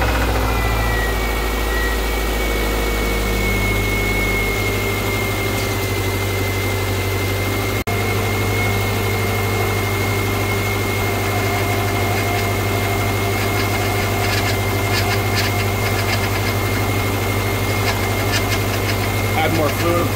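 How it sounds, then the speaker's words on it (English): Subaru Outback engine starting and settling into a steady idle after a steering rack replacement, a constant loud low hum with a faint whine, close by, under talk. "Right now we're actually gonna fire it up and check for leaks before we go on to the alignment."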